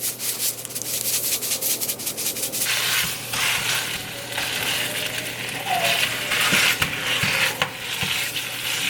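Ground pork frying in avocado oil in a pan, with a steady close sizzle and repeated scraping and stirring strokes throughout, and a few brief clicks and knocks near the end.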